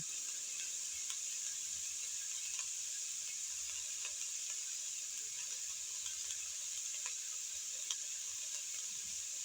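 Vegetables frying in a pan for khichuri give off a steady, soft sizzle with faint occasional crackles and stirring clicks, continuous and unbroken with no talking.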